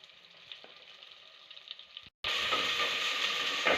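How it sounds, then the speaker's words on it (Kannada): Onions hit hot oil in a pan with three tablespoons of oil, a faint quiet background giving way abruptly to a loud, steady sizzle that continues to the end. "ಈಗ 3 ಟೇಬಲ್ ಸ್ಪೂನ್ ಎಣ್ಣೆ ಹಾಕ್ಕೊಳ್ತಾ ಇದ್ದೀನಿ. ಇವಾಗ ಈರುಳ್ಳಿ ಹಾಕ್ಕೊಳ್ತಾ ಇದ್ದೀನಿ."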